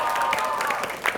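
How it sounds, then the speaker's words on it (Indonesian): A studio audience at a televised quiz competition gives a short burst of dense, steady clapping, mixed with faint crowd noise. "Berikan tepuk tangan untuk kita semua"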